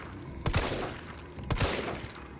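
Gunfire aimed at a zombie in Resident Evil 3 Remake, two loud sharp shot bursts about a second apart, each followed by a brief echoing tail, close and with no speech.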